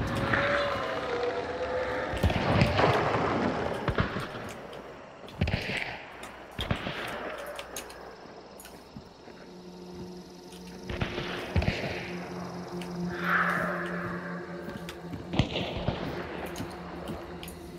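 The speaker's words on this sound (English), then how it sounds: "They're shooting at each other." Gunfire in a video-game firefight, with scattered sharp shots and short bursts at varying distances over a low rumbling game backdrop, alone without talk.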